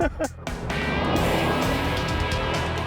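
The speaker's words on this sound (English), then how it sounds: "An empty car doing donuts and a police car with its lights flashing." An empty car doing donuts on a street near a fire hydrant, a close, loud engine roar with tire noise rising after a brief opening, steady through the rest.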